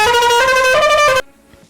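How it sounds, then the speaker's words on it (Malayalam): A bus horn, number 11 in the Bus Simulator Indonesia game, blares loudly as a rich multi-tone chord for just over a second, shifting pitch slightly twice, then cuts off abruptly into near silence. "ഓക്കെ, ഹോൺ വർക്കിംഗ് ആണ്"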